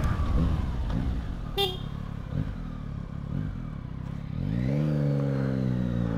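Yamaha XSR900 motorcycle ridden on a city street with a quick shifter, engine droning near and loud, then rising in a clear climbing rev near the end; wind noise throughout.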